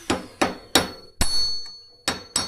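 A steel hammer strikes a bearing race, driving it out of its seat in a workshop: six sharp metallic blows in uneven rhythm, close and loud, with a ringing tone lingering after some hits.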